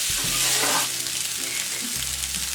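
Elephant foot yam pieces fry and sizzle in a pan with chili powder and salt while being stirred, steady close crackling with scraping clinks of the spoon.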